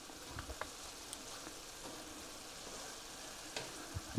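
Steady crackling sizzle of ground beef frying in a pan, water boiling off, with occasional louder pops over a constant hiss.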